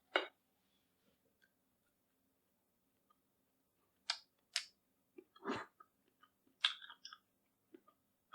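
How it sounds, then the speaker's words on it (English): Fat from a grain-fed ribeye steak is chewed close to the microphone, sparse wet clicks and soft crunches in short irregular bursts against near silence. "we're going to taste the fat on the grain-fed ribeye"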